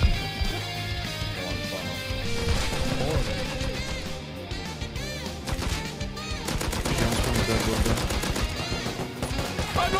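Rapid automatic gunfire in the survival video game Rust, dense bursts of shots close and loud for the whole stretch, with brief breaks and continuous clatter layered over game music.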